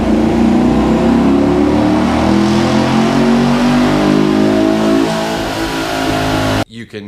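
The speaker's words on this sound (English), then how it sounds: "you can hear that suction of air when you hit on that gas pedal" Camaro SS fitted with a cold air intake revs hard, a loud sustained engine roar with rising pitch and audible air suction, easing off before a short burst of talk at the end.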